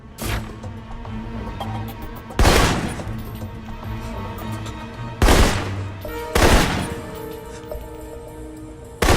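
Assault rifle fire in Alpha Protocol comes as heavy bursts at intervals of a few seconds over a dense mix of music and background noise, each burst loud and close.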